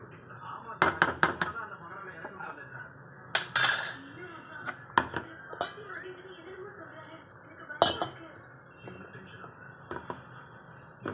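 A metal spoon stirs okra vatha kuzhambu in a cooking pot, with clinks and scrapes against the vessel in irregular bursts, close and fairly loud, over a soft background hum.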